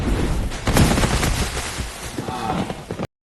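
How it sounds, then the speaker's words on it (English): Hunters fire guns in a film scene, a rapid burst of sharp reports close together that thins into scattered shots and movement over about three seconds. "Then, he heard gunshots."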